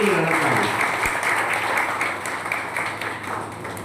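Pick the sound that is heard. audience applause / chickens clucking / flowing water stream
audience applause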